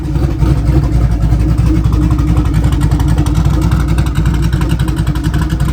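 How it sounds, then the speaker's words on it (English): A twin-turbo Mopar engine idles while warming up, giving a loud, close, steady rumble with a fast, even pulsing and no talking over it. "We got it warming up."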